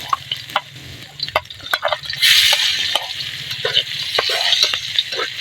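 Garlic sizzling in oil left over from frying fish, a steady frying hiss swelling louder midway, with the clatter of stirring over a low background hum.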